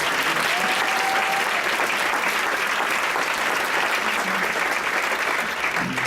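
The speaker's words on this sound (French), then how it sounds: "Une main d'applaudissement" An audience at an Ignite talk event applauds in a dense, continuous wash of many hands clapping, loud and even throughout with no speech on top.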